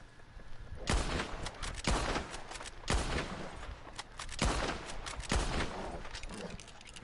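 Bolt-action rifle fire in the video game Red Dead Redemption 2: a series of about five sharp, loud gunshots spaced roughly a second apart, each with a ringing tail, against steady background noise.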